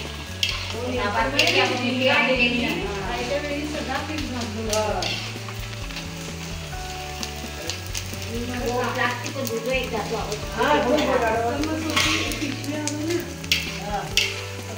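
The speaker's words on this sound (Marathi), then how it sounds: "सर्व डिंक आता तुम्ही याच्यामध्ये तळून घेणार आहात" Edible gum sizzles and puffs in hot ghee for a dhaniya panjiri offering, with a continuous close frying crackle, a spoon stirring in the pan and a voice speaking at times.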